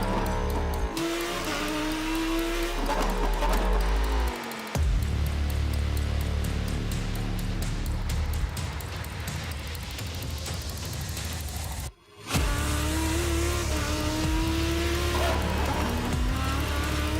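A Lamborghini race car in a sim racing game laps Silverstone with a loud, continuous engine that climbs in pitch through repeated gear shifts, broken by brief drops as the revs fall.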